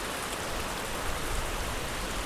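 Steady rain pours down in a dense, even hiss that fills the whole stretch, with faint pattering drops on a surface and no voices.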